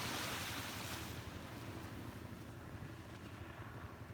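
Steady wind buffets the microphone over continuous surf washing on a beach, a loud, broad, unbroken roar with no voices.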